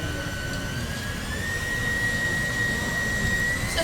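A KitchenAid 5.6L stand mixer with a six-wire whisk runs at high speed, speed setting around 8 to 10, whipping ricotta; a steady, loud motor whir with a high whine that rises partway through and holds.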